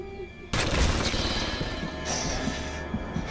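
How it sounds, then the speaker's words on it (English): Turret gunfire in BioShock: a sudden loud onset of rapid, sustained automatic fire with metallic clatter, continuing steadily at close range with a brief higher whine partway through. "Oh, a turret!"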